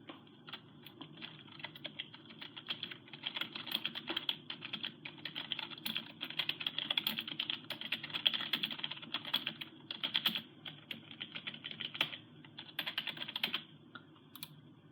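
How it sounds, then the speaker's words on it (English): Someone types on a Logitech G105 computer keyboard, a rapid, close run of light plasticky key clicks with irregular rhythm and brief pauses, clear and alone over a quiet background. "if I type something here"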